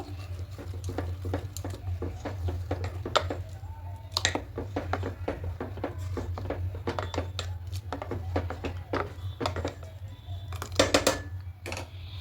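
A spoon stirs grated jaggery into milk in a pot, giving soft, irregular clinks and scrapes over a steady low hum, with no talking.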